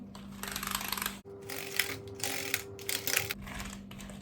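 Keyboard keys are wiped with a damp napkin, giving soft, close rubbing and faint clicking of the keys in short bursts over a low background hum, with no talking.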